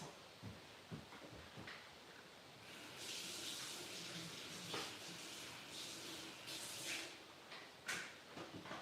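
Water rinses a cooking pot in a kitchen, a faint running, splashing wash with a few soft knocks and clatters as the pot is handled.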